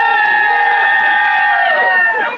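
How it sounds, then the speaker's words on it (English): A crowd at an outdoor benefit event cheers and whoops together in a loud, sustained burst that fades out at the end. "let's have a little cheer for all the people out there."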